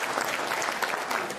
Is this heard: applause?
yes